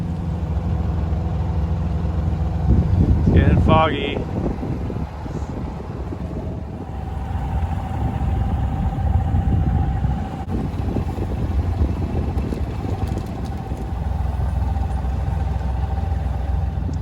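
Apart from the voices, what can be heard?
sailboat's motor running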